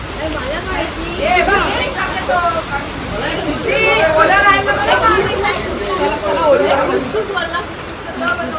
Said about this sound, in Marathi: पाऊस आला, पहिला पाऊस, ट्रिपचा पहिला पाऊस.